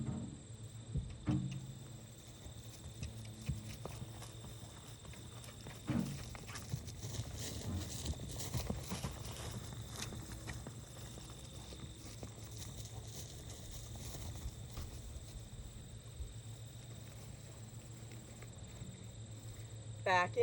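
A horse moves around during ground training, with soft, irregular hoof thuds on the ground, faint and fairly distant, under steady background noise.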